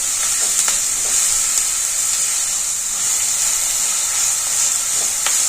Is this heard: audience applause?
no